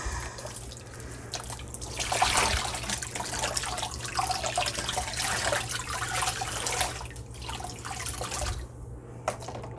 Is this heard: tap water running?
yes